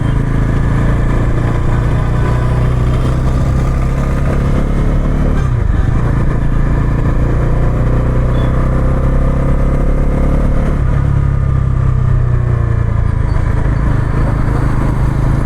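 Bajaj Pulsar NS400 motorcycle engine on a test ride, a loud, continuous mid-pitched drone with a low rumble and a slight dip partway through, close to the mic throughout with faint wind.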